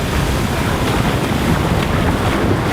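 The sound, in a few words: ocean waves crashing on the shore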